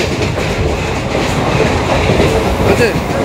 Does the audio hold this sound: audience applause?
no